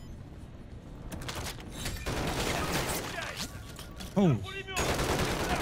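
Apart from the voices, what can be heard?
sentry gun firing in video game Call of Duty Modern Warfare 3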